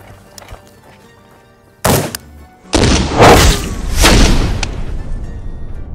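A 7N6 bullet fired into several stacked ballistic blocks: two loud, sudden blasts a second apart, followed by a heavy, sustained rumbling roar that slowly fades.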